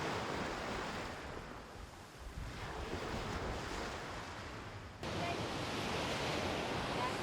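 Surf washes steadily onto the beach at Padangbai, Bali, a constant broad roar of waves mixed with heavy wind buffeting the microphone.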